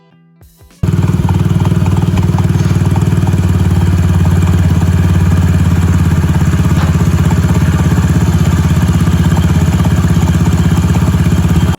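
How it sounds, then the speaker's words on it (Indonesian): Yamaha Mio Soul GT scooter, freshly reassembled after cylinder-head repair, starting up after a short quiet moment and then running at a loud, steady, rapidly pulsing idle close by, without any speech. "Langsung kita rakit kembali dan kita tes nyala motornya ya guys ya."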